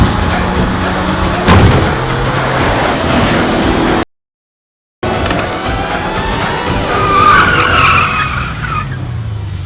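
A car drives fast and skids hard in a Hindi comedy movie scene, a loud tire screech and engine rush cut by a brief gap of silence before the squeal rises again.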